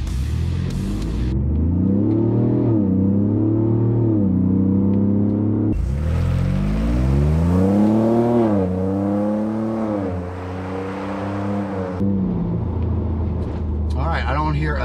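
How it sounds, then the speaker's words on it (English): A 2021 Ford Bronco with a Magnaflow exhaust revs at about half throttle, rising and falling through several throaty pulls over a steady idle rumble, loud and close. "Let's go ahead and do a half throttle hit and see if we can tell the difference."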